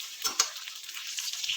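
Onion and tomato frying with masala paste, a soft close sizzle with a couple of brief scraping stirs of a spoon, quiet and short, no voices.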